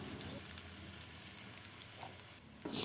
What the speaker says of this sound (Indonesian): Langkah selanjutnya kita panaskan minyak secukupnya untuk menggoreng tempe.